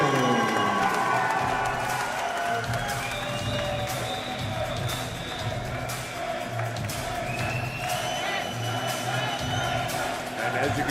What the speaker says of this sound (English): as you can hear, the crowd is going wild